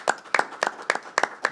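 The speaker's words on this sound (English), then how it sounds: "Big clap." Council meeting audience clapping in six sharp, evenly spaced bursts, close and crisp, with no talk over it.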